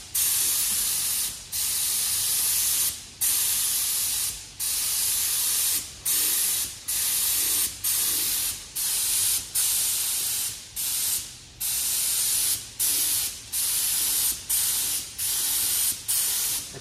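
Bursts of coating sprayed onto a vehicle chassis frame during restoration hiss in a steady rhythm, each spray lasting about a second with short gaps between, close and loud, no talking.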